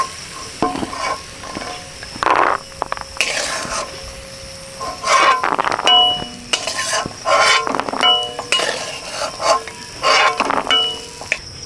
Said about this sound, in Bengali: काजू किशमिशेर संगे बादाम भेजे नब